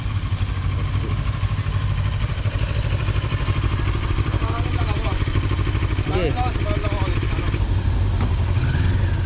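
Motorcycles running on an adventure ride, a constant close engine drone and clatter throughout, with people talking over it.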